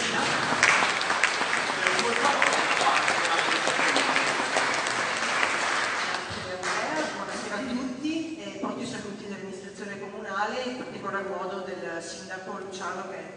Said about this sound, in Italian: un doppio applauso per la nostra famiglia